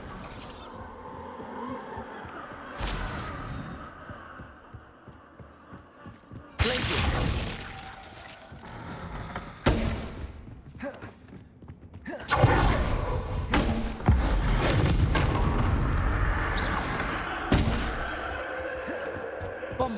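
Bombarda blasting spells cast in Hogwarts Legacy, several loud thudding explosions with shattering crashes, each followed by rumbling debris, separated by quieter stretches of ambient hum.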